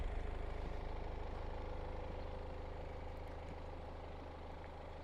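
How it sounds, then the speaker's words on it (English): Steady, quiet idle of a 2018 BMW 328d xDrive Sports Wagon diesel engine heard outdoors, an even low hum that holds at a constant moderate level with no revving. "Engine is super quiet."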